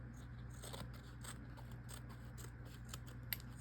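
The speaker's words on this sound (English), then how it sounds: "These are not my fabric scissors" Scissors snip through fabric scraps during a craft project, a quiet run of crisp, irregular cuts spread across a few seconds over a low steady background hum.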